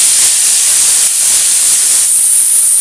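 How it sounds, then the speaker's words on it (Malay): Ground spice paste for Javanese fried rice sizzling in hot oil, a loud, steady, bright hiss that runs without a break, with no talking. "sekarang kita sautekan bahan-bahan yang telah kita kisar"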